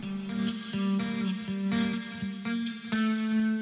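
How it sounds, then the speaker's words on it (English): Electric guitar run through a distortion amp group in a deep house track, a loud gritty chorded riff with rhythmic repeated strums and a sustained, saturated tone, playing alone. "This is a distortion amp group that I've got."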